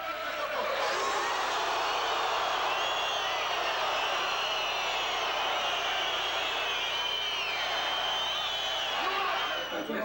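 A dense crowd below a balcony jeers and shouts in a continuous roaring din of many voices, loud and sustained, with scattered whoops and cries rising above the mass.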